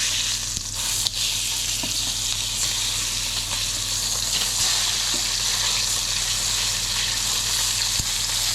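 A freshly caught sea bass fillet fries skin-side down in a pan until crispy, giving a loud, continuous close-up sizzle with a few faint clicks and no talking.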